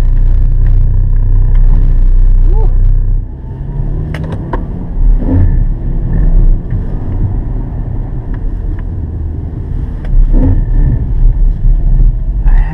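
A 2017 Ford KA+ held at full throttle on a drift and lap-time test, its engine a loud, continuous rumbling drone close to the microphone, with wind buffeting over it.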